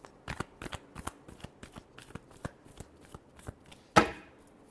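Playing cards shuffled by hand during a tarot-style reading, a rapid series of crisp riffling slaps, soft and close, ending in one sharper snap of the deck.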